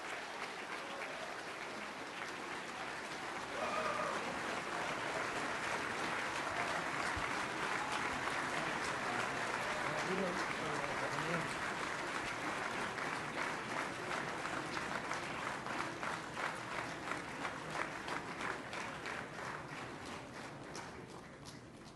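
At a Malacañan ceremony for the signing of the 2012 Bangsamoro Framework Agreement, an audience applauds steadily for over twenty seconds, a sustained even roar of many hands clapping in a large room.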